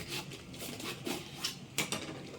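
Knife slicing palak spinach leaves held together in the hand with no chopping board, giving soft repeated crisp cuts and scraping strokes, close and fairly quiet.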